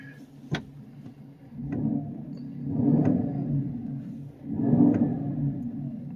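A 2019 GMC Sierra Denali pickup with a Corsa exhaust gives a low, swelling rumble, rising in three broad waves with a sharp click near the start, steady and moderately loud from inside the cab.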